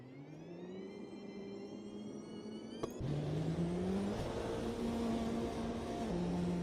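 An LMP2 prototype race car engine in the Automobilista 2 sim racing game whines through the gears, a steady droning tone that rises, drops at an upshift, then climbs and holds again, with no talk over it.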